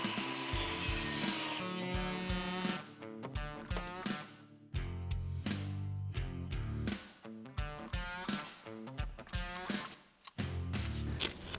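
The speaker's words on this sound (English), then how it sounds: "I can mark and cut the notches so that the end joist can drop down around the beam" Power saw cutting notches into wooden deck joists so the end joist fits over the beam, with repeated close, loud bursts of cutting broken by short pauses.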